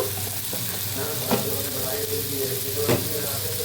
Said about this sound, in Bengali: এটাকে আমরা খুব ভালো করে ভেজে নেব